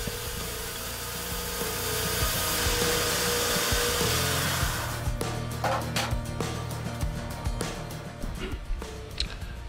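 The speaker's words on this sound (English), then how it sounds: "using the belt sander just to clean up the saw marks on the bottom so I have a fairly smooth surface" A belt sander smooths saw marks off the bottom of a wooden workpiece with a continuous close roar for about five seconds, followed by scattered knocks and clatter as it winds down.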